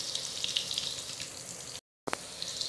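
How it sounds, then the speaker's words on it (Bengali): Potatoes fry in hot oil with a steady, close bright sizzle that cuts out briefly near the end, then resumes with a small clink. "দেখো বন্ধুরা, আলুগুলো ভাজা ভাজা হয়ে এসেছে।"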